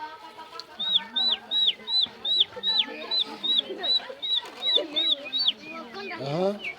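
A voice imitates a chick's peeping with about a dozen high, evenly spaced cheeps in a steady rhythm. The peeps are close and clear, and the run ends in lower vocal chatter.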